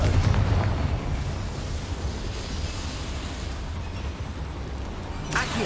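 Spell blasts and explosions in the video game Hogwarts Legacy, a continuous rumbling roar with dense booming bursts that fades slightly, with a sharp crackling pop near the end.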